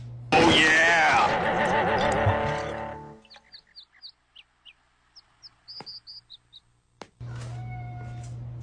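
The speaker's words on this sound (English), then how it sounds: "my cat Copper just showed up in the kitchen" Pet cat Copper in a kitchen, giving a long, loud, drawn-out meow up close, followed by quieter chirps and faint clicks before a steady hum returns.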